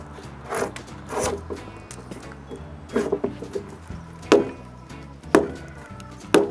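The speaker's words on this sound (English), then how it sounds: "Then we try the fit of the mortise and tenon." A wooden mortise and tenon joint for a shop roof truss is test-fitted by hand, with scattered knocks, rubbing and taps of timber against timber, close up and intermittent.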